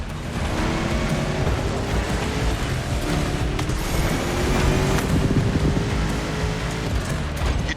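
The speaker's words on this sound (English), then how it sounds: "You're driving my #1 car, the star of my collection, the 1969 Mustang Boss 429" Engine of a 1969 Mustang Boss 429 in The Crew Motorfest, a continuous loud roar with rising and shifting tones as the car accelerates, mixed with rushing wind noise, no talking.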